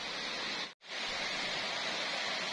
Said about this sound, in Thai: แล้วก็ถึง น้ำตกด้านล่าง